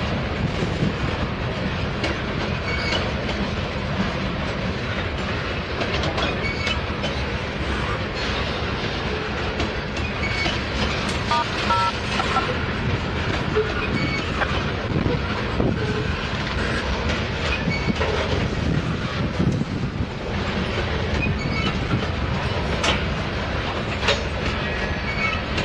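Freight train with two locomotives, likely hauling empty cars, rolling past up close in town: a continuous loud rumble of wheels with rhythmic clickety-clack on the rails and occasional squeals, lasting the whole stretch without talk.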